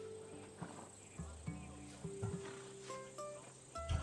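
A horse in the video game Assassin's Creed Odyssey, a Thessalonian breed, gives soft hoof clip-clops and snorting sounds over a low steady ambient hum, with faint insect chirps in the background.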